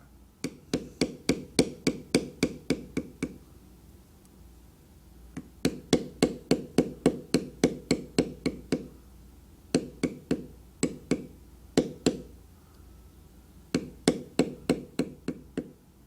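A mallet taps a pear shader stamp across leather tooled for a light-switch frame, giving crisp, even knocks in quick bursts of eight to twelve strikes. The bursts are separated by short pauses and sound close and clear.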